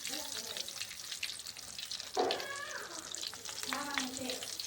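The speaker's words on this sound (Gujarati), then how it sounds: "આવી રીતે મસ્ત મસ્ત તળવી છે પકોડા" Pakoras deep fry in hot oil in a village home kitchen, giving a continuous close sizzle and bubbling, with brief voice sounds over it.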